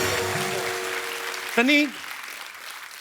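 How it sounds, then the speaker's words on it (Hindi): Studio audience at a comedy show applauding in a dense, steady patter that fades out, followed by a brief spoken voice. "सनी के लिए जोरदार तालियां"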